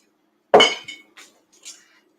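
A spoon stirs coffee lightened with cream in a glass, giving one bright clink followed by a few quicker, fainter taps against the glass, close up with no talk.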